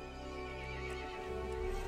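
A horse whinnies and neighs over a steady, dense rumbling backdrop in a Resident Evil Village cutscene, a sustained cry lasting under two seconds with faint hoof clip-clops beneath.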